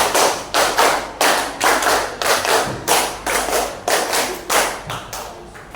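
A classroom of students clapping in a set rhythmic pattern, sharp group claps in regular bursts with brief pauses between, close and loud with no talking.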